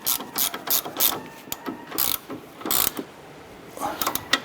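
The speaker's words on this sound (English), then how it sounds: "We're going to use our 17mm socket and wrench, and we're going to snug this bolt down" Ratchet wrench with a 17mm socket snugging the lower strut clevis fork bolt on a 2008-2012 Honda Accord, giving bursts of quick clicking pawl strokes in an irregular rhythm, close and fairly clear.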